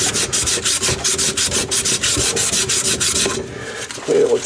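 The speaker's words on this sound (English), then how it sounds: "Clean it with sandpaper." Sandpaper scrubs a copper pipe during a dishwasher plumbing job, close up, in quick rhythmic strokes of about four per second that continue for several seconds and then stop.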